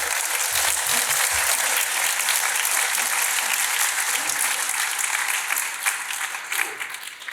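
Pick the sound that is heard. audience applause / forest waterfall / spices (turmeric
audience applause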